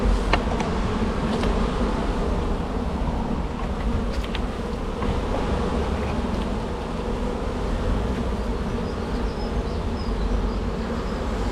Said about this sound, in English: There's bees fanning on the colony box to say this is home, but we have bees fanning on the bin to say this is home